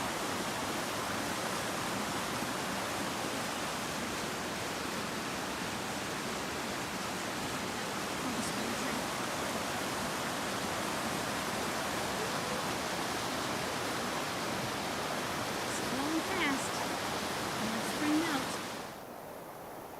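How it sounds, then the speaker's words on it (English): Gorge Brook in the White Mountains rushes through a narrow rocky channel, a dense, steady roar of flowing water close by that drops away abruptly near the end. "This might even be Gorge Brook."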